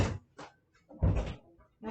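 A bedroom door is handled to let a dog inside: a few close thuds and knocking bumps of wood, irregular and brief.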